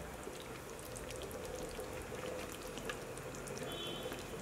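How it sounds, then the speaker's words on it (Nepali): A whole chicken with ginger simmers at a boil in a pot of soup water, giving a steady, close bubbling hiss with small popping bursts throughout and no voices. "होल चिकन यहाँ सबै उम्लिँदैछ।"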